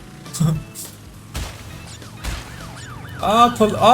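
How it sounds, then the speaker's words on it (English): A police car siren in the Crash Bandicoot N.Sane Trilogy video game wails in rising and falling sweeps, growing louder near the end among other game sound effects. "Police car."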